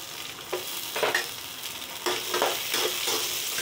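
Finely chopped hill garlic sautéing with pepper in a hot pan, a steady close sizzle broken by repeated scraping stirs of a spoon, with no talking.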